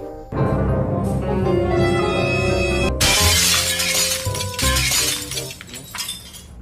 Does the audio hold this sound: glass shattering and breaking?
yes